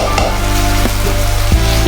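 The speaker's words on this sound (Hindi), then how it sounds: "अब ये चिकन को अच्छी तरह से मैं भून के फिर मैं" Chicken fries in masala in a pan, a loud, continuous close sizzle broken by a few sharp scrapes of stirring.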